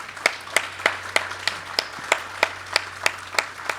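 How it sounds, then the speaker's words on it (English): A small audience at a community awards event applauds the honorees, with sharp, evenly spaced claps close by at a steady rhythm that sounds like only a few people clapping. "give another round of applause for all of"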